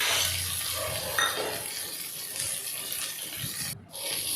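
Onions and chilli frying in ghee for a prawn biryani, a steady broadband sizzle with stirring scrapes throughout and a brief drop near the end.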